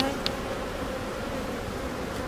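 Honeybees buzz in a dense, continuous drone during a hive inspection, close and steady throughout with no talking.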